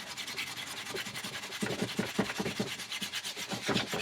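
Steel wool (Brillo) scrubbing rust off a motorcycle exhaust pipe with light pressure, a close, continuous scratchy rubbing that turns into quick back-and-forth strokes in the second half.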